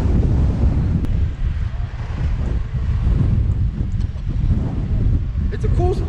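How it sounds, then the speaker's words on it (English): Strong wind roars and buffets the microphone continuously while riding outdoors on a cold day in New Hampshire, loud and steady throughout, with the wind noise dominating everything else. "Headed up with the wind now."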